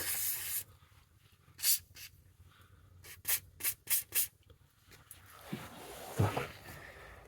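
Short bursts of CarLife CF451 rust solvent sprayed onto rusty bolts of a Volkswagen e-Golf, several quick hissing puffs in a row at close range, with soft rubbing and handling noises between them and no talk.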